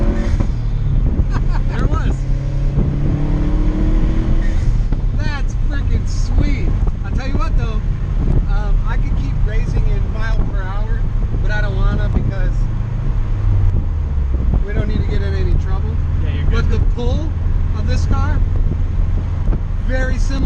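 A custom-chassis 1950 Studebaker truck engine pulls hard in second gear, a loud sustained droning roar with rising and shifting tones under heavy wind buffeting, close and continuous throughout.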